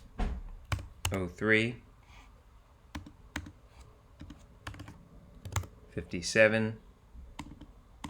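Close computer keyboard typing, with scattered key taps and short bursts of clicks in a quiet room, broken by two brief moments of speech.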